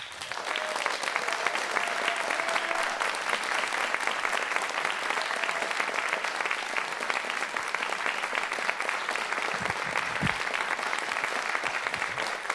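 A theatre audience claps steadily and loudly for the whole stretch, a dense and continuous wash of hands welcoming performer Dottie Jean Kirk.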